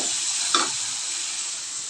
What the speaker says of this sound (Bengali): এইভাবে এটাকে খানিকক্ষণ নাড়াচাড়া করে কষলে আজকে রেডি নিরামিষ ফুলকপির